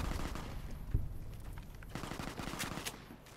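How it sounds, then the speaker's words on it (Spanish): Rapid gunfire echoes through a Fallout New Vegas game scene, a continuous rattle of shots at moderate distance with one sharper close crack early on, no talking. "¿Qué están disparando aquí?"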